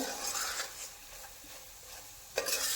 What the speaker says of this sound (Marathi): हा भाजायला लागला हे मसाला